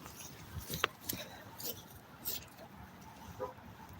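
A dog on a walk outdoors whimpers and gives short, faint yips in scattered bursts, with a person's voice and quiet outdoor background around it.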